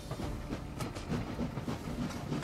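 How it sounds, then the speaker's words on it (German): Trains roll along rails in the video game Anno 1800 with a close, continuous rumble and rhythmic clickety-clack of wagons, heard alone at moderate volume. "Du zoomst da ran und die Züge schallern dir ins Ohr."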